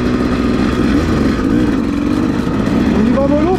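A Suzuki RM125 two-stroke dirt bike out on a meadow revs loud and close, its pitch rising and falling in short bursts, with a voice faintly underneath.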